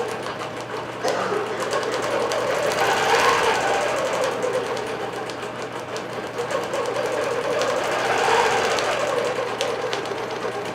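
A computerized quilting machine stitches out an alfresco flower pattern, a steady continuous mechanical whir and needle chatter running throughout with gentle swells in intensity, close and fairly loud, with no talking.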